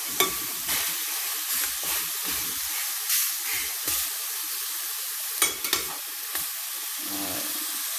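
Spicy spare ribs with honey fry in a pan, producing a continuous crackling sizzle and hiss with occasional louder pops and spatters, close and alone without speech.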